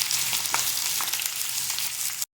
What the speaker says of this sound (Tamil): இப்போ நான் ஆனியன் போட்டு வதக்கிக்கிறேன்